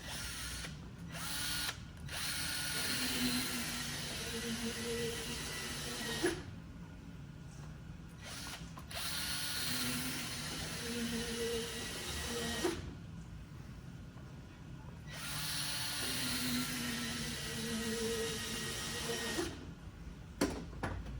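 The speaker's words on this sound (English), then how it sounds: "I'm going to move to the horsehair brush." A horsehair brush, likely a rotary one, buzzes steadily against a ski base while it is polished after edging and waxing. The whirring runs in long stretches broken by short pauses, fairly faint and with no talk.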